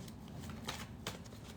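Tarot cards riffled and shuffled up close, a soft papery flutter with two sharper snapping bursts, quiet and without talk.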